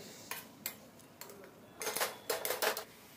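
A spoon scraping and clinking against a pan while grated carrot and sugar are stirred for carrot halwa, a few sharp taps early on, then denser clattering bursts toward the end, close and fairly quiet.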